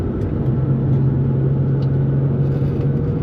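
Steady interior engine hum and road rumble from a 2004 Nissan 350Z cruising along, loud and unbroken, with no talking.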